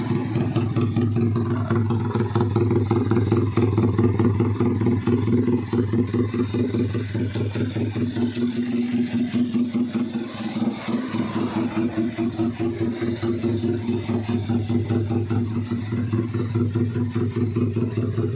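A two-stroke contest motorcycle from around 2017 with a double carburettor runs steadily, its engine throbbing in a fast, even pulse with slight rises and dips, close and fairly loud.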